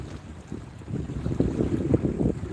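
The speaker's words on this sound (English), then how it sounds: "It is a little windy, a little cold this morning" Steady wind buffeting a microphone outdoors on a cold morning at a flooded cove, a low rumbling gust that swells slightly, with faint lapping water beneath.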